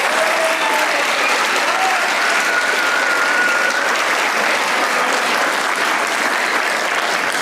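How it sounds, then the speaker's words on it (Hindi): A studio audience breaks into steady, loud applause for Marina Khan on a comedy talk show, a continuous dense wash of many hands clapping with no one talking over it. "तालियां बजाएं भाई मरीना के लिए।"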